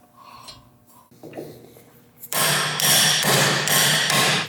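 A car build part for a Toyota Corolla AE86 gymkhana build, held in a vise, takes a burst of loud, close hammer whacks in quick succession, following a few lighter taps and clunks.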